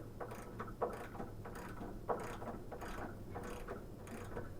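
Ratchet tightening nuts on a shock absorber bushing of a 2005 Nissan Frontier LE crew cab with Bilstein shocks; close, steady rapid clicking in repeated bursts with a couple of sharper metallic knocks.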